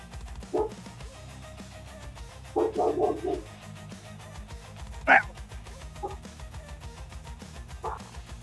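A puppy gives a few short, scattered yips and barks indoors, with quiet gaps between them.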